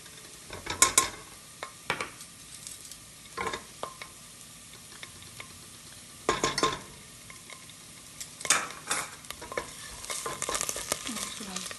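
A tomato paste mixture is stirred in a hot pan, giving a soft, steady sizzle. Irregular scraping stir strokes clatter over the sizzle, and there is no talk.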